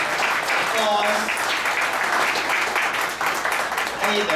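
Audience at a tech breakfast meetup claps in a continuous moderate wash of applause, with faint voices talking underneath.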